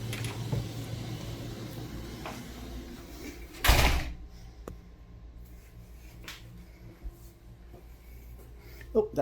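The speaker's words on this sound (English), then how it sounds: "Oh, that was a kitchen door, wrong door." A kitchen door in a c.1903 house opens with a single sharp clack and thud midway, loud against a quiet indoor room tone, with faint handling noises before and after.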